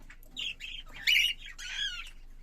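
Cockatiel chicks give several shrill, close squawks and calls in short bursts, with brief pauses between them.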